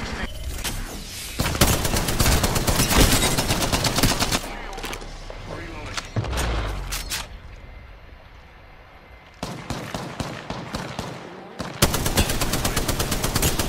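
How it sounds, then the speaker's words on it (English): Gunfire in the video game Apex Legends comes as rapid automatic bursts, dense rattling volleys broken by short pauses, loud and close throughout. "Oh, Chris, you just blocked my bullets"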